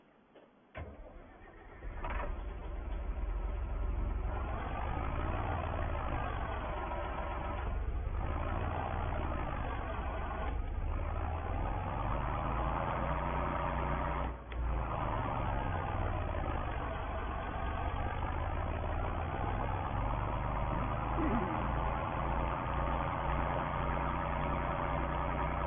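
A John Deere 8340 tractor fitted with a straight pipe idles after starting, a deep, steady, bellowing drone that holds close and loud, dipping briefly partway through, with no talking.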